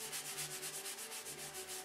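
Wood sanded by hand on a classic airplane build, a steady back-and-forth rubbing in quick, even strokes, close and fairly quiet with no talking.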